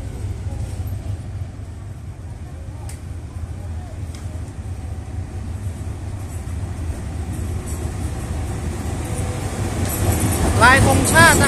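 A train hauled by a locomotive in Thai national-flag livery rolls into Chumphon station in the morning, a low steady rumble of wheels and engine that grows louder and nearer toward the end, with faint squeals near the close.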